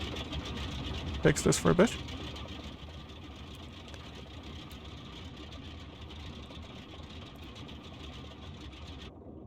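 In a flight simulator, the Boeing 247D's second engine runs with a steady, droning hum after a short louder burst near the start, while a voice talks over it.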